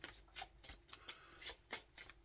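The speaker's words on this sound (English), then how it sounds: "Giving these a good old shuffle because they are a newish deck." A fairly new deck of tarot cards being shuffled by hand, a run of crisp riffling bursts and soft card slaps repeating in an irregular rhythm, close and quiet with no talk.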